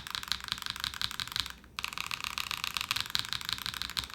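Steady, fast typing on a Razer BlackWidow 75% mechanical keyboard filled with polyfill foam, a dense run of close, muted clacks with a slightly deeper tone, pausing briefly once before continuing at the same pace.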